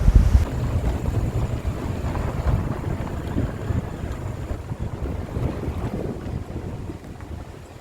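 Big sea waves roll in at Guhagar beach, a continuous loud rumbling wash of surf mixed with heavy wind buffeting close to the microphone, slowly easing toward the end.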